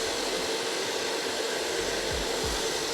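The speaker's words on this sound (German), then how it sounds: "Also immer wichtig, den Föhn draufhalten, dabei die Haare ein bisschen nach hinten ziehen und kneten." A hair dryer blows in a steady, loud, close whoosh while a man's short French crop is styled at a barber's, the hair pulled back and kneaded under the airflow.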